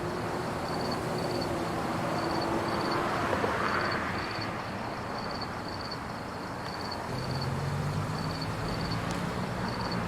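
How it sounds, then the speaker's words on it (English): Steady low rumble of distant traffic, with a vehicle's engine drone swelling partway through and a faint repeating high beep above. "Only listen to the traffic noises."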